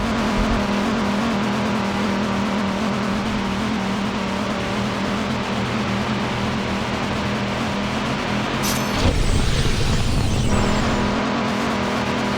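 A racing car engine in the video game Blur roars steadily, then surges into a harsher, louder boost near the end before settling back.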